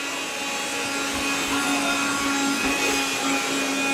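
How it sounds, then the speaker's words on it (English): A household vacuum cleaner pushed around by a toddler hums steadily and loudly throughout, a continuous motor whine with no speech over it. "Push the vacuum."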